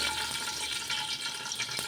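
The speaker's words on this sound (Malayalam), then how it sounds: "ഇനി നമുക്കതിലേക്ക് ആവശ്യമായ വെള്ളം ഒഴിക്കണം." Water splashes steadily into a pot while Malabar chicken biryani is being prepared, a close, bright, unbroken pouring sound lasting just under two seconds.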